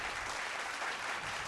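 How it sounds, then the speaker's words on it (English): A small audience gives light applause at the Gladrap NZ Boxing Awards 2019 announcement, a steady patter of scattered claps throughout, fairly quiet and alone. "Yay, little claps here."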